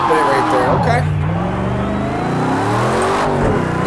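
A Ford Mustang RTR race car in the Project Cars 2 video game roars loudly, its engine note rising and falling through gear changes and revs, with people talking over it.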